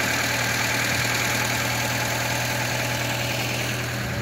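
An old car's overheated engine idles steadily, a continuous close rumble with a strong low hum and broadband mechanical noise, loud and unbroken throughout.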